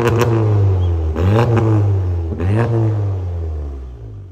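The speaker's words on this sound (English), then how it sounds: "Have you ever heard a Polo sound like that?" A modified VW Polo GTI with a custom exhaust revs hard twice, each throaty blip rising and falling over a loud, steady idle rumble, recorded up close.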